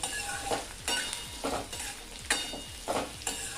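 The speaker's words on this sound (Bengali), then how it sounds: "এই ঢাকা খোলা অবস্থায় 2 থেকে 3 মিনিট এভাবে নেড়ে চেড়ে পেঁয়াজটাকে আলুর সাথে ভেজে নেব" Onion fries with potatoes in an uncovered pan while being stirred, a soft sizzle punctuated by a regular series of spatula scrapes roughly every half second to second.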